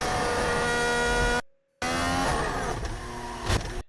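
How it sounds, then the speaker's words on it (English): A loud race car engine at the Monaco Grand Prix screams at high revs, cuts out briefly, then roars back, buzzing and bouncing against its rev limiter. "What you heard was him putting it on the rev limiter,"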